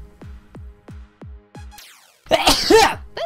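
A sharp, loud sneeze bursts out near the end, after a run of five evenly spaced descending electronic game tones and a brief sweep.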